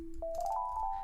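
A wavetable synthesizer note played on a keyboard starts low, then jumps up and slides slightly upward into a bright, buzzy sustained tone, short and alone.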